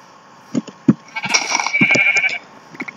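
Sheep bleat repeatedly in the Minecraft video game, a few short bleats and then a longer drawn-out one, fairly close and clear, with no talking.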